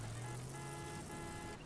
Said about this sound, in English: Looks like you're honking at the tree.